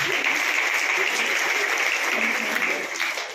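Loud, steady audience applause at an honouring ceremony for guests and artists, a dense wash of clapping that holds for a few seconds and then begins to taper off.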